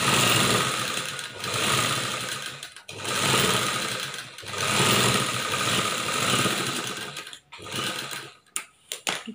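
Sewing machine running steadily while stitching a churidar top, a continuous mechanical whirr in long bursts with brief pauses near the end, close and fairly loud.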